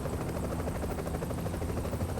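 An extraction helicopter in The Division Survival video game hovers nearby, its rotor producing a continuous, rapid chopping drone that holds steady throughout, with no talk over it.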